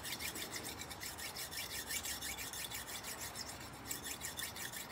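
A butter knife drawn lightly across sharpening stones, giving a steady run of quick, rhythmic rasping strokes that sound close and even throughout.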